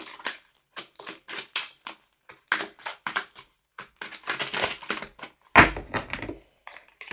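Oracle cards are shuffled by hand in quick riffling bursts, a series of close papery flutters and snaps separated by short pauses, ending with a louder slap as cards are drawn, with no talking.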